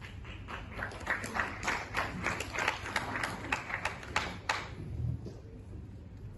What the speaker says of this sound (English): I think we should have a competition on who claps the loudest